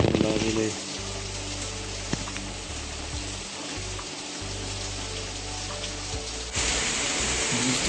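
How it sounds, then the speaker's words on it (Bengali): Heavy rain falls in a dense, continuous hiss close by, with a low steady rumble underneath and the wash growing louder toward the end. "বৃষ্টি হয়ে যাচ্ছে থামার আর কোনো নাম নেই"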